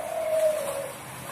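A derkuku dove, the zebra-dove type kept for singing contests, gives a drawn-out soft coo that is steady and fairly clear, heard alone against quiet background hiss.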